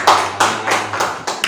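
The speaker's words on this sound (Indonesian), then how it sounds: "Kita kasih tepuk tangan" A classroom of students claps hands together in a quick, rhythmic pattern, about five sharp unison bursts, close and loud.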